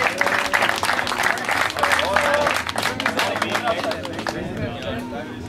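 A crowd applauds loudly and continuously at the award ceremony of the PRENGO CUP 2013 tournament, with dense clapping and a murmur of voices that gradually thins out toward the end.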